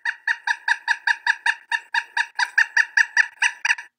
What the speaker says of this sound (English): I actually get to hear what the bird sounds like in the wild.